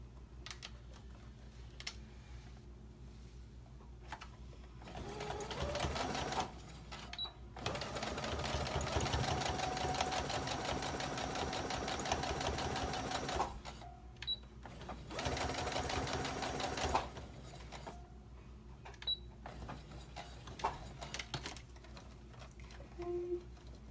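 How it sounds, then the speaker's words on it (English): A sewing machine stitches a headband in bursts, fast mechanical whirring runs of a few seconds separated by quiet pauses with small clicks, close and moderately soft. "First, I'm going to sew closer to it."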